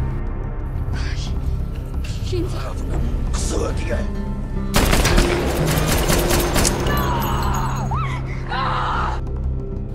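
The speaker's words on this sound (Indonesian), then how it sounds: "Cat berhasil menembak mati semua musuh" Automatic weapons fire in an action film shootout, a dense burst of rapid shots and clatter mixed with score and effects, loud and sustained with voices present.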